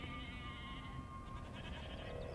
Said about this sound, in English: It does the noise of the sheep?